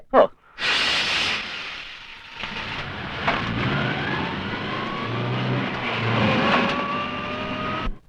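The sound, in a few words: car engine starting and driving off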